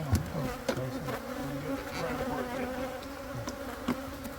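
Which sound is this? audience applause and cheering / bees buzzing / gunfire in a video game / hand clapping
bees buzzing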